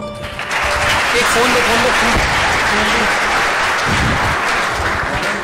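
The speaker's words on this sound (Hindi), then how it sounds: "एक बार जोरदार तालियां हो जाए।" Audience applause, dense and continuous clapping from a crowd, loud and close, with someone speaking briefly over it.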